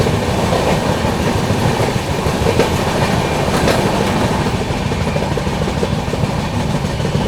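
Aboard the Pune AC Duronto Express as it overtakes an Intercity Express, a loud, continuous rumble of wheels and rail roar runs unbroken, with steady clickety-clack underneath.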